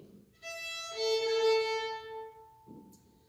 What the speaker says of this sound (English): In Irish music, it sounds like this,